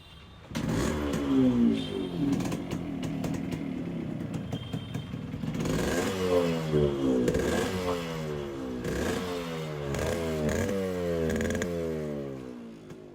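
A modified two-stroke Yamaha RX 100 motorcycle engine is started and then revved repeatedly, its raspy, crackling exhaust rising and falling in close, loud bursts with clattering mechanical noise between them.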